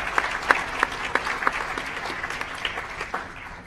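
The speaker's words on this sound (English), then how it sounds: "Please join me in giving her applause." An audience at an international evening of oral presentations claps steadily for a few seconds, with sharp individual claps standing out from a moderate, fairly close patter.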